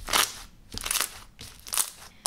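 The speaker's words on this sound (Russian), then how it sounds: "вы же слышите, как он хрустит, очень круто, и тянется" Crunchy banana-cream slime, store-bought and topped with sprinkles, is squeezed and stretched in three bursts of close, crisp crackling and crunching separated by brief pauses.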